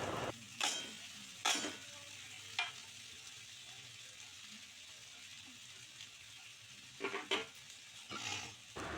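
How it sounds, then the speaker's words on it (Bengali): Fried egg bhujia being stirred into boiled dal in a pan for Bengali dhaba-style egg tarka. A handful of scraping, clattering stirs come in brief bursts over a faint, steady sizzle. "এবার সমস্ত উপকরণগুলিকে ডালের সাথে খুব ভালোভাবে মিশিয়ে নেব।"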